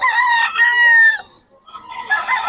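A gamefowl rooster crows loudly and close, one long call cut off, then further crowing and clucking follow after a short pause.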